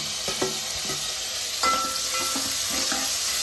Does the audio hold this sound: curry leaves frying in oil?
yes